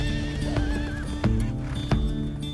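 A mustang horse neighs and whinnies loudly and up close, its long wavering call carrying over the steady clip-clop of hooves and a dull rumble of movement nearby, with no talking.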